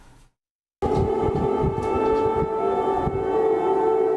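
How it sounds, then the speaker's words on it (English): After a brief silence, a loud, sustained air raid siren wails steadily over a rumbling background during a Russian drone attack on Kyiv, holding a continuous droning tone. "An air raid siren blares amid a Russian drone attack on the Ukrainian capital"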